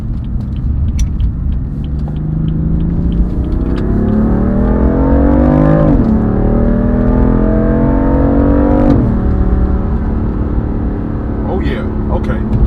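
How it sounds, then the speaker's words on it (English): A BMW M3/M4 turbo engine with an aftermarket CTS Turbo intake revs up hard through the gears on a highway, pitch climbing then dropping at two shifts, with someone talking over the steady roar. "when you really get on it, you really can hear the induction noise a lot"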